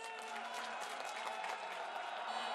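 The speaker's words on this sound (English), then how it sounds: "The court's decision was hailed by the crowds in the street." Street crowd cheering and clapping after a Constitutional Court impeachment verdict, a continuous distant roar of many voices and applause, fairly faint with a faint tonal drone beneath.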